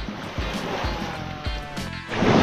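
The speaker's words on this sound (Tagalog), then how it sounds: "Malakas ang alon." Waves wash and churn nearby, with surging water and splashing that builds toward a louder rush at the end.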